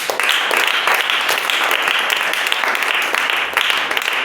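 A congregation at a Hindi-language church service claps continuously in a dense, loud, steady wash of hand claps with no voices over it.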